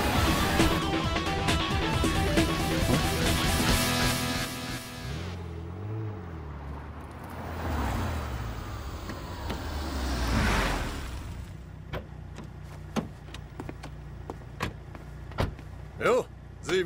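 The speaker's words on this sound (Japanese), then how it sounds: "追い上げてくるこの音、そう、山本が睨んだ通り、こらしげの音だ。" A tuned sports car closes in from behind during a late-night highway chase in the Wangan Midnight anime, its engine rising into a whining surge before fading, followed by sparse clicks and quiet background.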